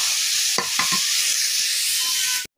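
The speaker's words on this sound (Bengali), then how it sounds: "আর এগুলো দিয়ে কিন্তু এবার আমি কিছুক্ষণ ভেজে নিব।" Chopped onion and green chili sizzle steadily in hot oil in a pan, with a few clinks of a stirring utensil against the pan, no voices.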